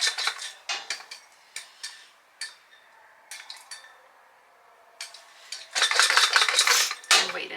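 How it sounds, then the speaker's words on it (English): Popcorn popping in a pot shaken on a stovetop in a trailer kitchen, sharp scattered pops and rattles that come in irregular bursts, closely miked and growing into a denser clatter near the end. "I am going to take it off the heat now because it is really popping. And kind of keep shaking it."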